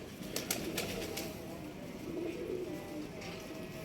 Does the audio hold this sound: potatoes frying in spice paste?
no